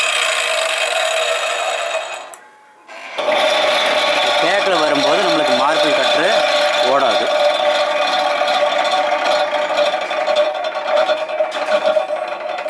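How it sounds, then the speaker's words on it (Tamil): A marble cutter runs, cutting wood boards for a honey bee box, with a steady high whine that drops out briefly and then resumes loud and continuous with a rough, rasping edge. "மார்பிள் கட்டரும் ஓடிக்கி"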